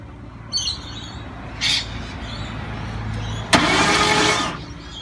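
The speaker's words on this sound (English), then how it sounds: "Starter motor sounds bad." A ZG Ford Fairlane's starter motor cranks as the engine turns over: a steady low mechanical drone, then a loud, harsh burst of grinding for about a second, with faint bird chirps in the background and no voices.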